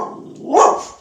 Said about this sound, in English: There's my dog barking at my neighbor again.